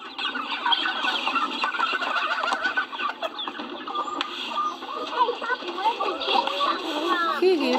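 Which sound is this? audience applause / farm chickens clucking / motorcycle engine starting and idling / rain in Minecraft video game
farm chickens clucking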